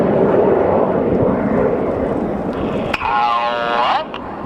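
Red Arrows display jets roar past at an airshow at Cosford, a loud sustained broadband rush with a rising whine near the end as the jets pass close overhead.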